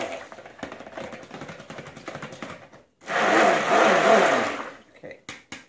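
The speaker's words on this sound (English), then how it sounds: "Give a blender a little burp." A stick blender whirs loudly in one short pulse of about a second and a half in cold process soap batter, preceded by clattering and scraping and followed by a few knocks.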